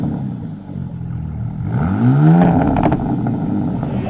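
A truck engine sound laid over a BMW M2 revs up in a rising, climbing sweep midway through, with clattery mechanical detail and a brief spoken remark near the end.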